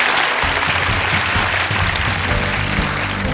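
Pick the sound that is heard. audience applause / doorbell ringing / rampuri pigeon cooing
audience applause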